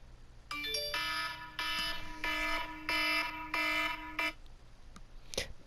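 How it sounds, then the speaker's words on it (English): An alarm sounds in the Farming Simulator 22 video game, a moderately loud electronic tone pulsing in five repeated bursts of about half a second each, followed by a quiet thump. "That was an alarm."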